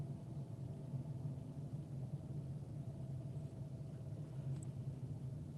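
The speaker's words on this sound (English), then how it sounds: "I'm in my car driving right now" Steady low engine rumble inside a moving car, a continuous road drone held at an even level throughout with no talking.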